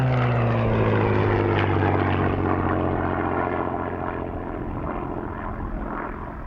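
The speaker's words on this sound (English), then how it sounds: "The next aircraft to display is the 2-seater Grace Spitfire, another Mark IX variant." A two-seater Spitfire Mark IX flies at an airshow. Its loud propeller-engine drone carries a steady tone that slowly fades and shifts as the plane passes, heard alone without talk.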